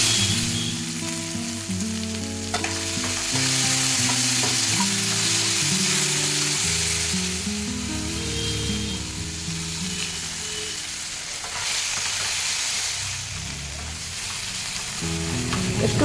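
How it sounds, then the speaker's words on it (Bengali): Green chili, bay leaf, cumin, five-spice and a tomato sizzle loudly in oil in a pan, a steady bright frying hiss with occasional stirring scrapes running unbroken throughout. "আমি আলাদা একটা প্যানে মশলাটা কষিয়ে নিচ্ছি। এখানে দিয়ে দিচ্ছি কাঁচা লঙ্কা, তেজপাতা, জিরে, 5 ফোড়ন, সঙ্গে একটি টমেটো আমি দিয়ে দিলাম।"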